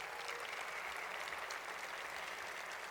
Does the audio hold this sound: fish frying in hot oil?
no